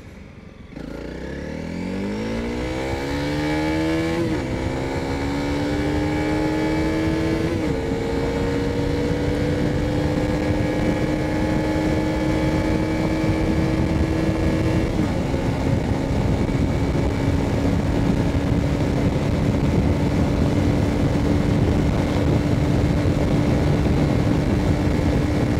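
A Honda CRF300L motorcycle pulls away hard from low speed in second gear, the engine note rising steadily with a few brief dips at upshifts, then holding a loud, sustained drone at speed with wind rush.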